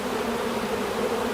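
A dense, steady drone of honey bees buzzing around an open hive on a warm day during an inspection, close and continuous with no talking.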